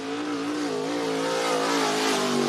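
An IMCA Modified race car at Cottage Grove Speedway, a dirt oval in Oregon, holds a steady, loud engine roar with a rising and falling pitch throughout, close and continuous, with no voices.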